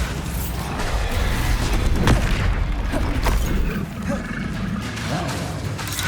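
A Bombarda explosion spell going off in Hogwarts Legacy, a deep booming blast in the middle of a loud, continuous combat mix of rumbles and mechanical clatter, with a voice calling out over it.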